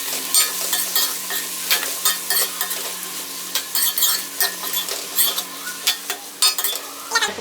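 Ridge gourd pieces are stirred in a sizzling pan for a ridge gourd and egg dish. Rhythmic scraping strokes repeat close by over a continuous frying hiss, with no speech.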